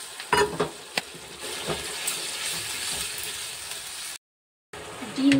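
Desi duck eggs drop into hot oil for an egg kalia, setting off loud sizzling and frying with scraping stirring and a few sharp clinks, then a brief silence before the sizzle resumes.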